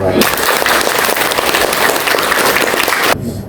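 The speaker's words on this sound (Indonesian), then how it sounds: "Tepuk tangan dong." An audience applauds at an academic teaching presentation, a dense, loud wash of clapping that holds steady for about three seconds and then cuts off abruptly, leaving quiet room tone.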